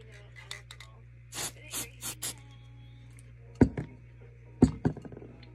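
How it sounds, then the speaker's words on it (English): A plastic antler piece is rubbed with sandpaper in several short, dry rasping strokes, a few sharper scrapes and knocks following, close and fairly quiet, with no talking. "I'll sandpaper it off."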